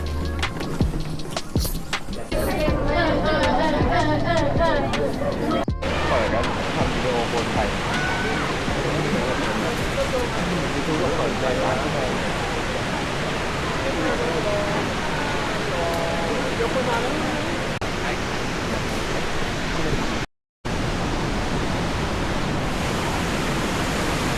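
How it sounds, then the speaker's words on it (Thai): A steady, roaring wash of falling water from a waterfall nearly 100 m high, heard from an upper viewpoint, loud and continuous, with a brief dropout near the end. "ไปชมน้ำตกจากจุดด้านบนนะคะ"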